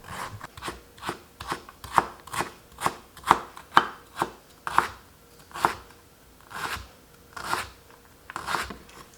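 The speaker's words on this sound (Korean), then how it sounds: "당근은 4분의 1토막 다질 겁니다" A knife minces a quarter of a carrot on a cutting board in quick, evenly spaced chops, close and crisp, about twenty strokes in a steady rhythm with no voices.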